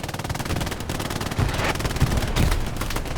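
Machine gun fire from a rooftop position in the Hell Let Loose video game: fast, rhythmic bursts of rapid shots over a dense background of battle noise, fairly loud and continuous.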